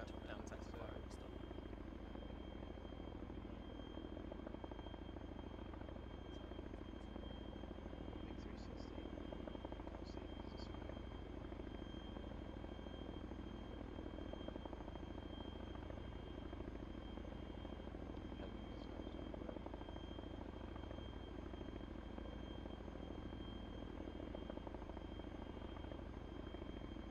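A helicopter in the military game ArmA 3 gives off a steady rotor and engine drone, continuous and fairly faint, with voices talking over it now and then.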